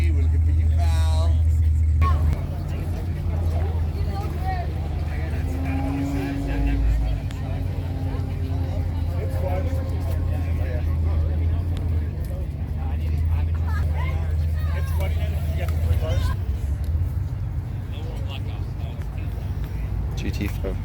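A Ford GT500 drives past at a cars and coffee meet, its engine a steady low rumble lasting throughout, close and loud, with crowd chatter and voices talking over it.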